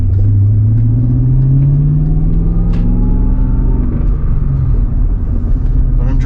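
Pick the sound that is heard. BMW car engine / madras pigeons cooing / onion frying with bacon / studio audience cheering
BMW car engine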